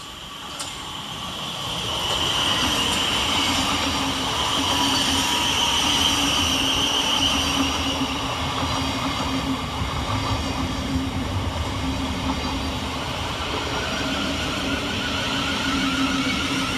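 A Thameslink Class 700 electric train running through Burgess Hill railway station on a Brighton to Bedford service, with a steady rumble and whine of wheels and traction building up, then holding loud and close for the whole stretch.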